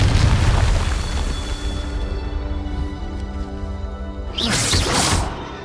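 Fiery Confringo spell explosion in Hogwarts Legacy, a deep booming blast with a whooshing burst, followed moments later by a second sharp fiery impact; no talking.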